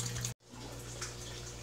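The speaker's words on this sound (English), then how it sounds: "draining the water faster than the overflow systems pour it in" Water from an aquarium overflow system pours steadily into a fish tank in a fish room, a continuous close splashing rush with a brief cut near the start.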